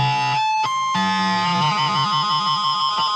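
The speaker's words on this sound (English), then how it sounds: "That gritty sound is the two strings, the sound waves oscillating over each other." A double stop on electric guitar, with the second string bent up against a ringing note, gives a gritty, wavering beat as the pitches rub. After a couple of quick re-picks, the sustained bend wobbles steadily, loud and close, with no talk.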